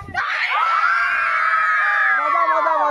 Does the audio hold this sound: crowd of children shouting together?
yes